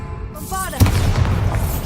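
A Bombarda blast spell from Hogwarts Legacy erupts as a single loud, booming explosion with a sharp onset, followed by a rumbling low-end tail, preceded by brief tonal spell shimmer.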